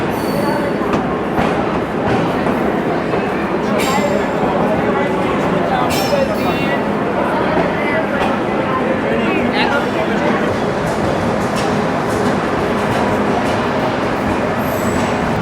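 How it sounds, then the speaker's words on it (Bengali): The Rupshi Bangla Express pulls out of platform 7 at Dhaka Kamalapur station toward Bhanga, a loud, continuous rolling rumble with metallic squeals and clatter, and voices speaking over it. "আমাদের ট্রেন রূপসী বাংলা এক্সপ্রেস ঢাকা কমলাপুর রেলওয়ে স্টেশনের 7 নম্বর প্ল্যাটফর্ম থেকে ভাঙ্গার উদ্দেশ্যে রওনা দিচ্ছে"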